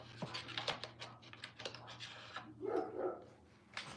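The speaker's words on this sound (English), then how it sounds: "that puppy is very noisy" A puppy yaps a few short barks amid a quiet indoor room with faint clicking, the barks fairly soft and clustered near the end.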